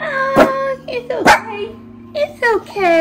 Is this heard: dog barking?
yes